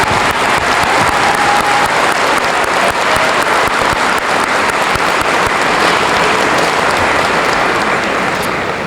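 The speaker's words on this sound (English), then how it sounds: "Please give them a big round of applause." Audience applause at a high school honor society induction ceremony: loud, dense, steady clapping from a full room, sustained without a break for about nine seconds.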